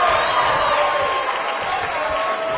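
A video-game crowd cheers in WWE 2K19, a steady wash of arena noise with whistles and raised voices, continuous and fairly loud throughout.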